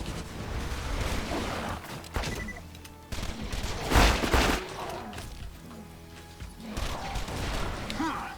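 Rapid gunfire hits a Skag in Borderlands 2 in repeated loud bursts with crashing impacts, broken by short pauses and then renewed firing.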